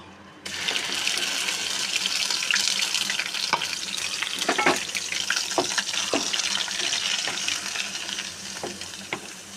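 Ash gourd seed paste frying in hot oil tempered with black cumin (kalo jeere), a loud continuous sizzle and crackle that starts abruptly as the paste goes in, with scattered sharp pops and scraping stirs, no voices.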